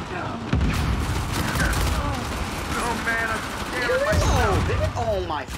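Rapid bursts of automatic gunfire and explosions from a competitive UMPL playoff shooter match, loud and near, with players talking excitedly over the shooting throughout.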